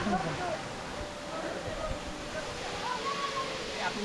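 Waterfall near Sitakundu, a steady broadband rush of falling water heard from close by, continuous and moderately loud, with faint background voices and movement mixed in.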